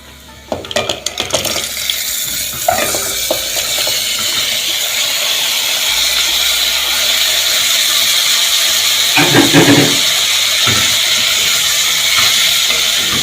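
Vegetables sizzle steadily in a hot pan over frying onion, a constant loud hiss with occasional scraping stirs and clinks.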